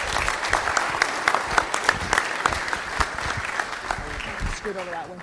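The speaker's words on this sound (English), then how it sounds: "Give them a round of applause." A room at a school board meeting breaks into a round of applause for the Briar Hill faculty, with sharp claps near and far and voices mixed in.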